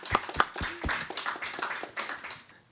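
Audience applause at a conference session on fostering collaboration and stakeholder engagement, beginning with a few sharp, separate claps and settling into a soft, thin patter of clapping that fades toward the end.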